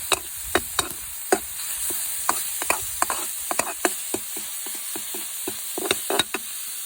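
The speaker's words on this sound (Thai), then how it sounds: "เราจะผัดแค่ให้มันแห้งนะครับ เอาแค่หมูสุกเฉย เติมน้ำมันลงไป" Minced pork stir-fried in oil in a pan for a Thai omelette gives a steady soft sizzle, punctuated by sharp irregular clicks and taps of a utensil scraping and stirring against the pan, close by and without speech.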